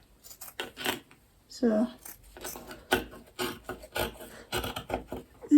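Scissors snip and rasp through fabric for an Agbada boubou gown, a few short cutting strokes close by amid handling noise, with a person speaking briefly.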